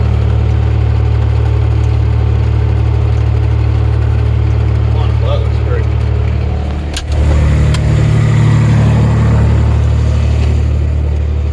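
A tractor's PTO drives a rebuilt Kuhn GA 6000 rotary rake, a loud steady engine hum and mechanical drone running continuously with a brief dip and knock midway, while a voice speaks briefly over it.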